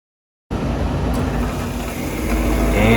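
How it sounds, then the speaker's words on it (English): A Bryant/Carrier gas furnace inducer motor starts up, its fan spinning into a steady, continuous whir that holds level and swells slightly louder toward the end, close by and alone. "the inducer motor just turned on, the fan is spinning"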